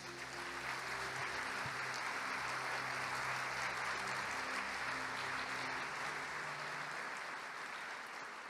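A church congregation applauds steadily for the full length, dense continuous clapping with a sustained musical tone underneath and no talking on top.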